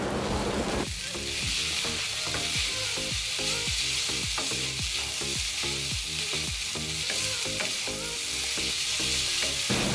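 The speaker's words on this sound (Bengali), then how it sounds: "ঝুরি ঝুরি করে রাখা ডিমগুলোকে অ্যাড করে দিলাম। এবারে ভালো করে মিশিয়ে দেব।" Pasta and scrambled eggs being stirred and fried in a pan, with a loud continuous sizzle and fast, regular spatula scrapes repeating steadily from start to finish.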